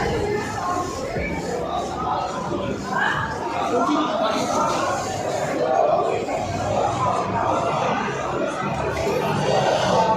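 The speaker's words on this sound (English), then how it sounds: "This market is full of crowd." Crowd noise fills Malatia trade market in Bangladesh, a steady dense babble of many voices with shuffling and occasional laughs, loud and continuous throughout.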